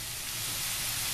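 Red and green peppers sauté in a pan with carrots and potatoes, giving a soft, steady sizzling hiss with no talk.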